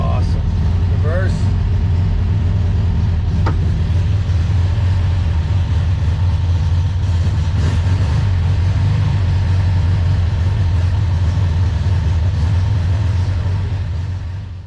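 An old, long-forgotten VW Beetle engine runs loudly and steadily up close, a dense low rumbling drone that holds for the whole stretch before easing slightly at the end.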